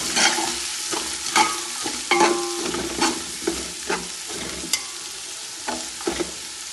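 Finely chopped small onions fry in a pan, a constant close sizzle broken by repeated scraping strokes of a stirring spoon, with no voices.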